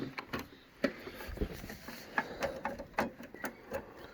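A receipt printer at a point-of-sale setup prints with a faint, quiet run of small clicks and light mechanical ticks.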